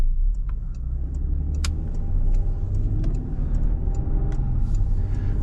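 Interior road noise of a 2022 Porsche Cayenne heading onto a highway: a steady low engine and tyre rumble runs throughout at an even level, with faint clicks and ticks over it and no talking.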